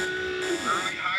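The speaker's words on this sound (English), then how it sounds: "Hey, Google, turn on the rookie alarm." An alarm buzzer sounds from a Google smart speaker, a steady electronic tone with shifting pitch running under a voice for just over a second.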